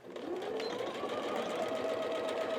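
A sewing machine runs steadily while stitching a fabric grocery bag, giving a close, continuous mechanical whir with a rapid needle rhythm and no talking.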